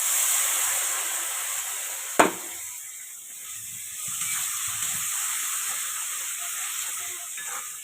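Tomato paste hits hot oil for a katla fish kaliya curry, giving a steady loud hiss and sizzle. A sharp clack of a utensil breaks in, then the frying settles into an even crackle.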